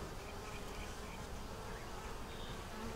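Dense, continuous buzzing of many honey bees around a hive, a steady close-up drone with no voices.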